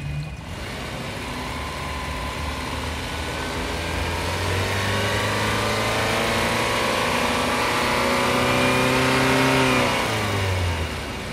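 Chevrolet Camaro SS VVT engine revving up loudly and close, the pitch climbing steadily over several seconds before easing back near the end, with no talk over it.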